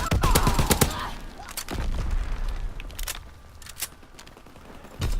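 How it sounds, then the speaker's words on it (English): FG-42 rifle fire in the World War II shooter Call of Duty WW2: several separate loud shots spaced out at a slow fire rate, each with a sharp crack and short echoing tail. "Okay, so this gun has a really low fire rate."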